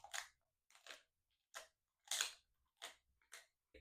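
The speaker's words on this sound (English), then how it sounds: "Mate, could you crunch any louder?" Loud, close crunching of food being chewed right beside the ear inside a Black Wolf Stealth Mesh tent while motocamping, coming in about eight sharp separate bites with short silences between them.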